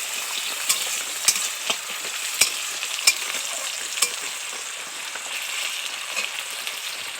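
Chopped tomato and green chillies sizzle steadily in a pan for singi fish curry, a bright continuous hiss with scattered sharp crackles and pops, close and clear with no talking.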